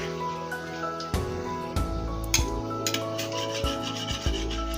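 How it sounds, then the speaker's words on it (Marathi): Yogurt and gram flour are stirred together for kadhi, giving soft scraping and rubbing strokes against the bowl with occasional light knocks, close and quiet. "आता हे आपलं दही आणि बेसन आहे ते मिक्स करून घेऊया"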